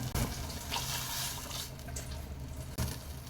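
A glass of water is poured into simmering vatha kulambu, a tamarind curry, giving a close, steady splashing pour lasting a few seconds with a brief knock near the start and another near the end.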